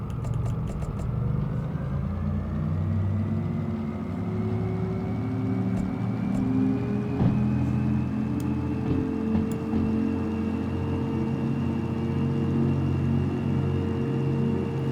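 A locomotive slug unit in the Derail Valley train game gives a steady, low rumbling drone with a faint rising whine layered above it, sustained and even throughout, with no talking.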